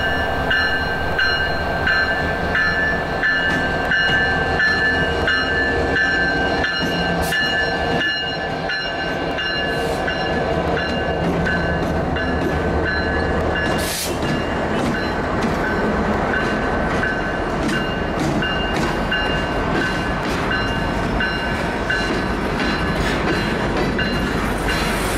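A Norfolk Southern freight train rolls by loud and close, with steady rumble and clickety-clack of wagons over the rails for the whole stretch, tonal squeals riding on top, and no talking.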